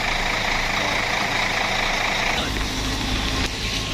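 Engines of trucks, buses and cars idle in a stalled night traffic jam on the Banda Aceh–Medan road at Gunung Selawah, Aceh Besar, a steady broad rumble with a low drone and no clear voices.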